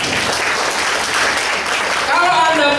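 An audience at a public speaking seminar claps together in a dense, sustained round. A voice talks over the applause near the end.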